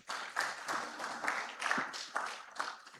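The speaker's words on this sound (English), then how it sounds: "Please, a round of applause." Audience at the 45th annual general meeting of a society of private medical and dental practitioners in Ghana, applauding in a steady patter of many hands, moderately close and sustained, swelling in waves without speech over it.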